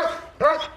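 Dog giving short barks to answer spoken arithmetic questions, a brief yip followed by a louder bark, close and clear, with a voice nearby.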